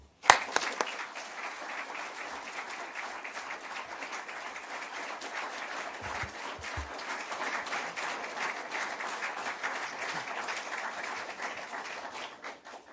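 An audience gives sustained applause welcoming Prime Minister Rishi Sunak at a Policy Exchange speech event: dense, even clapping that starts abruptly and carries on for the full stretch at a moderate distance.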